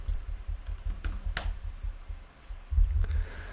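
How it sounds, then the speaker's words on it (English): Fingers type on a computer keyboard in quick bursts of close, crisp key clicks, pausing briefly midway before another short flurry. "we're going to type in Firestore"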